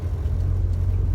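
Morris Minor car pulling into a petrol station, its engine giving a brief, close, low rumbling drone with a steady idle-like throb.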